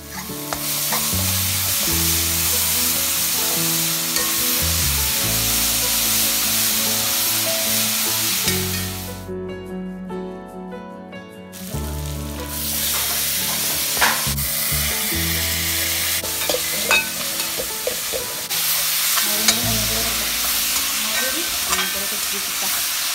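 Crushed ginger, garlic and shallots sautéing in a pan, giving a loud, dense, continuous sizzle with stirring clatter close up, briefly dropping away for a couple of seconds before resuming.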